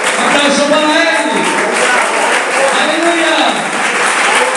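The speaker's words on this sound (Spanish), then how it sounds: "Aplauso para él" A church congregation applauds steadily and loudly throughout, a dense wash of clapping with voices calling out over it.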